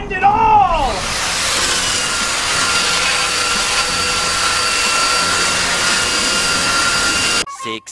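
A power sander works over wide wood boards meant for a chest, a loud steady abrasive hiss and motor whine running nearly without a break, with brief handling noise at the start and a cutoff at the end.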